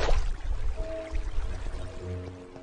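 Water pours and splashes briefly with a soft gurgling trickle, fairly close, against a low background hum.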